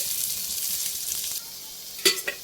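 A tablespoon of butter melting in a hot pan gives a steady, moderately loud sizzle that drops off partway through, followed by a few sharp clinks and scrapes.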